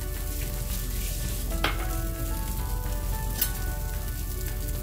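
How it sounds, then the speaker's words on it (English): A cheese dosa fries in a pan, giving a loud, continuous sizzle close by, with a couple of sharp spits and pops breaking through the steady hiss. "I'm going to let the cheese melt a little and the dosa fry."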